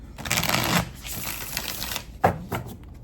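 A tarot card deck riffle-shuffled up close, a dense papery flutter for nearly a second, then softer rustling and a couple of sharp taps as the cards settle.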